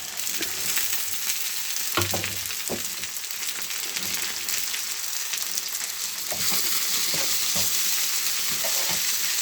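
Red and green bell peppers for fajitas sizzle and fry in a pan, a steady hiss broken by occasional stirring scrapes and clatters, close and alone with no talking.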